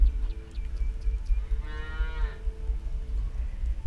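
Cows moo in the farming game Lumberjack's Dynasty: one clear, drawn-out moo rises in the middle over a low hum of background ambience.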